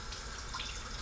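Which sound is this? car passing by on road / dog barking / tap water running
tap water running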